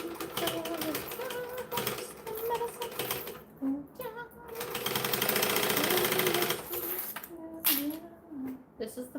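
A sewing machine stitches a bag in several runs of rapid, loud rattling, stopping and starting between bursts, with a voice talking in between.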